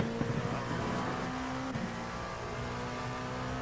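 A race car engine in the iRacing sim at Watkins Glen roars steadily as it accelerates up the hill out of a corner, a loud, continuous drone with a sustained pitch throughout.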